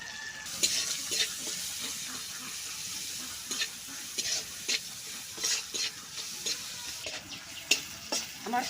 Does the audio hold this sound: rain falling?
no